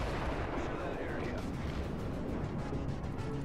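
Ships in the World of Warships video game let loose a rapid naval barrage, a dense, rumbling roar of overlapping gun blasts with no breaks, loud and steady throughout.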